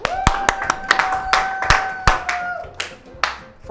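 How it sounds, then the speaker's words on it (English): A small group claps for the winning team at a cake decorating game show, sparse, uneven handclaps close by over a faint sustained tone. "Clap them, please. Clap them."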